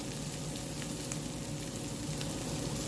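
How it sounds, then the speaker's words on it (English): Water from microwaved frozen broccoli pours and drains steadily out of a container, a close, continuous splashing trickle with no talk. "Drain off all the water."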